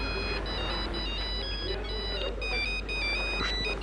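A mobile phone ringtone chirps in repeated bursts of bright, high electronic tones, fairly faint over a steady low hum and room noise.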